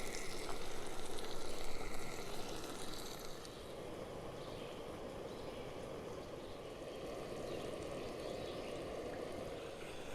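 A steak seasoned with paprika, cayenne, Old Bay and garlic powder sizzles on an Olicamp Vector camp stove, giving a soft, steady hiss that runs evenly for about ten seconds.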